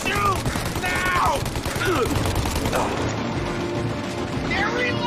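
Gunfire in Mafia Definitive Edition: a steady mechanical clatter of rapid shots and weapon handling under continuous shouting, fairly loud and close throughout.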